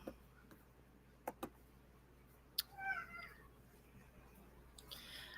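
A cat meows a few times after knocking things over: soft, drawn-out cries that sound faint and somewhat distant in a quiet room, broken by a few small ticks and taps.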